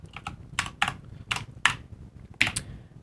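Keys clacking on a Commodore PET keyboard as a short program is entered, a handful of separate, fairly close keystrokes in an uneven rhythm with pauses between them, no voices.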